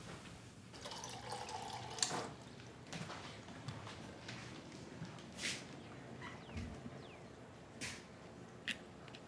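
Water runs from a tap into a sink, a faint, uneven splashing with scattered clinks and small knocks from handling nearby, quiet and without talk.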